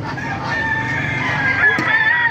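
A Talisay gamefowl rooster crows once, close and fairly loud, amid a busy market setting with steady background noise.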